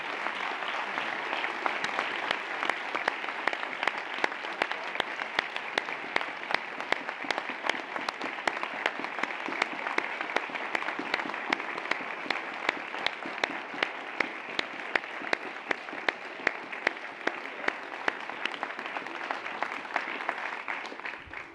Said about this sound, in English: I'd ask you to stand and let's give them a round of applause